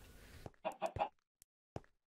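A few short Minecraft chicken clucks come in a quick run of three, followed by scattered soft clicks and one more brief cluck, close and quiet.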